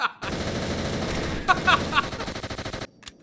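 AK-74 gunfire in the video game Fallout New Vegas comes as a loud, sustained automatic burst of rapid shots that ends abruptly, followed by a short tail.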